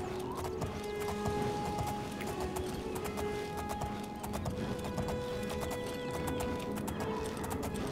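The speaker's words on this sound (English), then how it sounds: "it's nice to ride horse if you are weary" Steady rhythmic hoofbeats of a galloping horse in the video game Oblivion, continuous and fairly close, with a faint whinny and soft background ambience.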